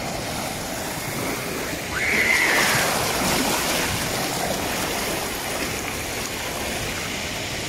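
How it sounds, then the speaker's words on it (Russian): A steady roar of ocean surf with rushing water at a beach in Unawatuna, Sri Lanka, swelling briefly louder around two seconds, then settling into a constant wash. "С одной стороны очень большие волны."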